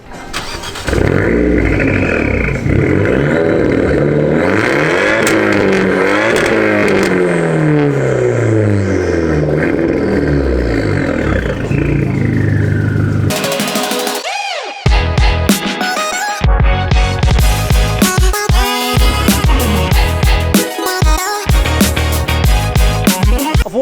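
An Abarth car engine cranks and fires up, then idles loudly before being revved hard in repeated bursts, close to the listener.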